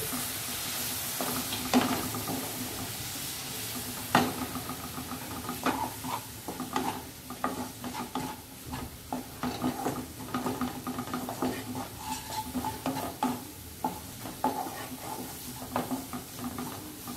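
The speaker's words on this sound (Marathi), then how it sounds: "हे सगळं आपण व्यवस्थित हलवून घेऊया।" Cauliflower, peas and carrot mix being stirred in a pan with salt and a little water: close, repeated scraping strokes of the spoon over a soft, steady sizzle, with no voices.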